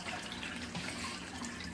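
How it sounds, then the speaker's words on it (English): Water gushes and splashes steadily from an aquarium filter during a pet supply unboxing, a close, continuous running-tap sound with no talk. "see if I can get the water, but not shooting out like this"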